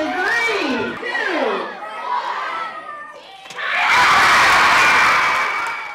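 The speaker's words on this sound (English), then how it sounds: "I liked all the people cheering" Schoolchildren shout and scream during a countdown, then a short quieter gap is followed by a loud burst of massed cheering from a crowd of students as their principal gets pied.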